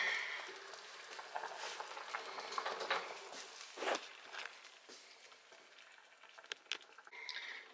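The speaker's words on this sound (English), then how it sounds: "it's still boiling even with it on the simmer burner" A pot of apple ginger jelly bubbling at a low boil on a simmer burner, soft popping and sizzling with occasional louder bursts, steady and close.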